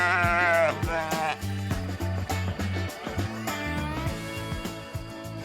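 Several sheep bleat loudly and repeatedly nearby, overlapping wavering calls in an outdoor flock, with no speech.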